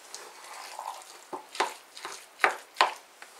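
Homemade chicken feed of kitchen scraps is stirred by hand, giving several soft scraping and squelching strokes in an irregular rhythm, close and fairly quiet.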